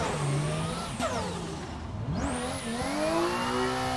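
An engine of a roughly 500 horsepower drift car on street tires revs up and down in a racing video game, loud and continuous, with sweeping pitch changes as it shifts and slides.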